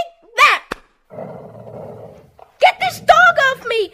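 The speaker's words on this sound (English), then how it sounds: "Get this dog off me. He'll kill me, George." A dog snarls in a low, sustained growl for about a second in an audiobook drama, close and clear, with voices speaking before and after it.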